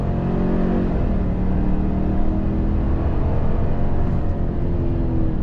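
A 2022 Chevy Suburban full-size SUV with a 10-speed automatic accelerating hard, the engine note rising steadily as the transmission downshifts, a loud, continuous low rumble from inside the cabin with no talking.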